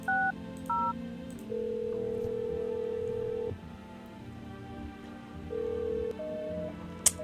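A phone number is punched in on a touch-tone keypad: a few short beeps, then a long held tone and more tones of varying length, fairly close over a low background hum.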